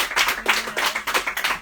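A small audience claps together in a steady burst of applause, with no one talking over the sound.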